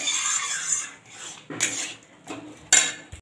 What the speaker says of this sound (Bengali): এবার আমার দিস্তাতে করে আমি গুঁড়ো করে নেব